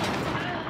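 Gunfire from the video game Hunt: Showdown, a short, loud, dense burst that fills the brief moment, close and harsh with a rumbling tail.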